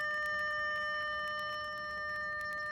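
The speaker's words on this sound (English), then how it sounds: "Hopefully that beeping will go away." An Audi S4 (B8, 3.0T) with the key turned to accessory gives off a steady, repeating electronic chime, held tones pulsing evenly for the whole stretch, moderately loud with no talk.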